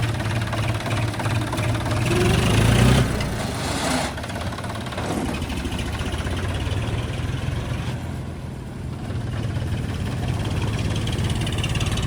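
A John Deere 5210 4WD tractor engine idles with a steady low chugging drone, revving up briefly early on before settling back into an even, close-up rumble.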